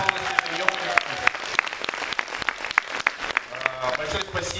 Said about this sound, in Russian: Этот человек заслуживает тоже очень больших аплодисментов